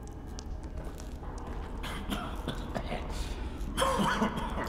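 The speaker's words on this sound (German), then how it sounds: "Wer hustet denn da?" Coughing from a character in the horror video game The Evil Within, a few rough bursts around the middle and a louder one near the end, over steady game ambience.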